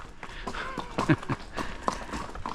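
A horse on a mountain path clops along in a quick, uneven series of close hoof strikes, with a person speaking faintly at times.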